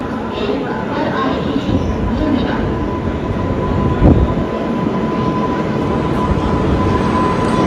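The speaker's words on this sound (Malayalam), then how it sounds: "ഇവിടെ ഗതിമാൻ എക്സ്പ്രസ് വരും" The Gatimaan Express, one of India's fastest trains, rolls in at a railway platform, a loud continuous rumble and rail noise close by with a steady tone and a brief clank midway.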